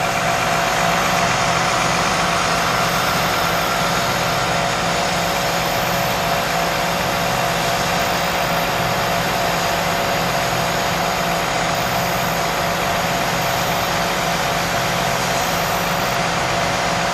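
Emergency vehicles idle at a rescue scene, their engines making a loud, constant, unbroken drone with a faint steady rattle and no voices.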